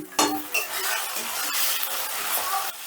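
Tomatoes and ground spice paste being stirred and sautéed in a pan, a steady close sizzle with scraping and clinks of the spoon against the metal.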